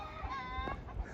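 Chickens and roosters cluck and call on a steep tropical hillside on Tortola, a few overlapping fowl voices close by against steady outdoor background noise.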